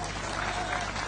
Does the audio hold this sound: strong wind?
no